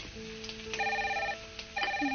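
A telephone rings in a kitchen, electronic tonal trills in two short bursts separated by a brief gap, fairly close and clear with no talking over it.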